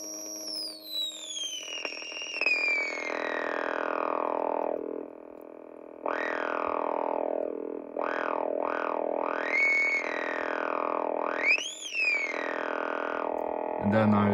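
A DIY WP-20 voltage-controlled filter at maximum resonance on a square wave, giving loud whistling, squeaking sweeps that swoop up and down repeatedly, with a short gap midway and a click at the end.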